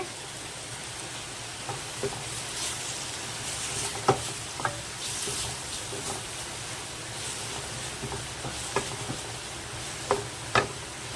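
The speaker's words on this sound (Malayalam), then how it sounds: "ഇനി ഇതിലേക്ക് ഒരല്പം മുരിങ്ങയില ഇടുകയാണ്." Drumstick leaves go into hot oil with curry leaves in a frying pan, producing a continuous soft sizzle with occasional sharp pops and light clicks of stirring throughout, no voices.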